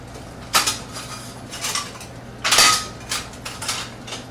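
Metal potato masher pressing down into pea soup in a cooking pot, giving a few loud clanking knocks against the pot in uneven bursts with quieter scraping between.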